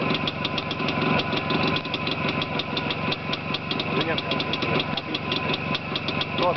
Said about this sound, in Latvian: Vai kā motors dzied.